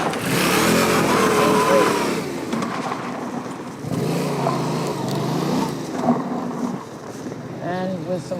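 A Yamaha FZ-07 motorcycle rides on gravel, its mid-pitched engine droning and revving steadily with crunchy road noise. A person talks over the riding sound.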